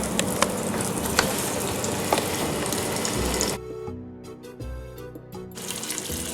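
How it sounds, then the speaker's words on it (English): Floured venison sizzling and crackling in a hot pan for several seconds, then a quieter stretch with scattered pops and a clatter. "we're going to lightly flour the meat and set it in the pan."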